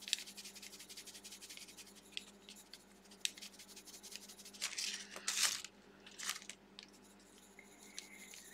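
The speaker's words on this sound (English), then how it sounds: "my paper is making another noise" Pencil or marker scratching on paper during coloring, quiet close strokes and rustles with a few louder scrapes bunched in the middle, otherwise soft and intermittent against a faint hum.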